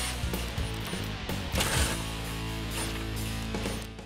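A 10 mm socket ratchet loosening the bolts of a hood latch on a 2018-2019 Ford Mustang, heard as quiet clicking and metallic turning in short bursts, close by and faint, with no talking.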